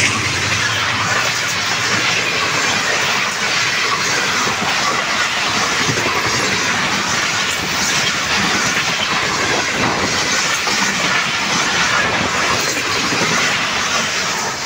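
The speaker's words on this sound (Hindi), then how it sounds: "ज़बरदस्त अंदाज के साथ 16 down Karachi express 40 down power take करती हुई" The 16 Down Karachi Express passenger train, hauled by locomotive ZCU 6306, passes close by with a loud, continuous roar and rhythmic clatter of wheels on rail, no voices over it.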